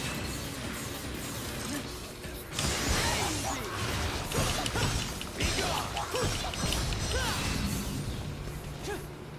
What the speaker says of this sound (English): Rev up the sword a little bit.